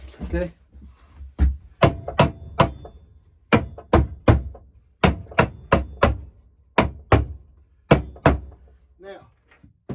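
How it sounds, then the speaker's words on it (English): Big hammer striking a shed during repairs, a series of sharp, loud, close thuds in an uneven rhythm, with brief talking between some blows. "I'm gonna get my big hammer."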